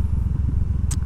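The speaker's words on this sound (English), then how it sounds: "you barely could even hear the exhaust of the motorcycle" A motorcycle exhaust rumbles close by, a low steady throbbing with a brief higher burst near the end, heard through a Sony ECM-CS3 lav mic that gives it a slightly metallic tone.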